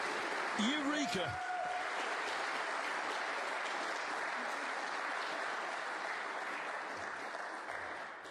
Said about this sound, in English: Biggest cheer of the day.